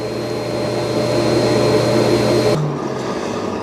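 A Dreame L20 Ultra robot vacuum cleaner runs with a steady whirring hum and motor drone, fairly loud and close, shifting to a lower tone near the end.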